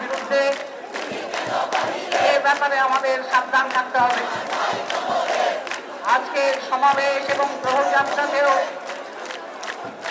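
A large crowd at a protest chants slogans in loud, rhythmic unison, voices rising and falling in repeated bursts throughout.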